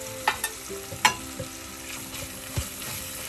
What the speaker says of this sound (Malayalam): അത് എണ്ണയിൽ കിടന്നൊന്ന് മൂക്കട്ടെ